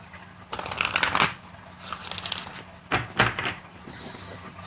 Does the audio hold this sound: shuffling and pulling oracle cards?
yes